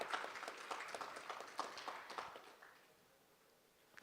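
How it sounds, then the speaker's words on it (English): Audience applause at a live youth leadership summit, dense clapping from a crowd that fades out over the final second or so. "The entire team deserves a very huge round of applause."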